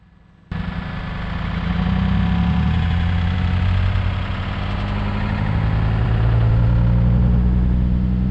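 A sedan's engine starts up and runs with a steady, moderately loud hum and rumble, driving onto a dirt track toward a hillside campground at Doi Pui, with no voices over it.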